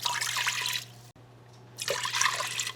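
Water pours into an Instant Pot for a creamy keto soup with cream cheese and heavy cream, two steady broadband pouring bursts with a short quiet gap between them, close and fairly loud over a low constant hum.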